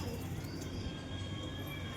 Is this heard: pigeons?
yes